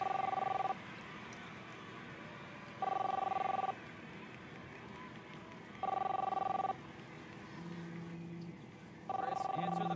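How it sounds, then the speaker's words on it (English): A telephone rings in repeated electronic bursts, four rings spaced about three seconds apart, fairly loud over a quiet room with a low tone between rings. "You don't hear the phone ringing off the hook?"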